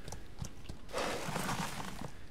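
Horse hooves clip-clopping in Outlaws of the Old West video game, a few separate thuds followed by a quicker run of steps and a breathy snort, fairly close with no talk.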